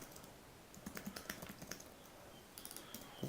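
Keys on a computer keyboard click quietly and close by in short irregular bursts of typing, separated by brief pauses.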